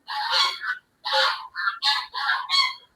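A turkey gives a series of five rapid, nasal gobbling calls in quick bursts, fairly close, with no talking, in a park.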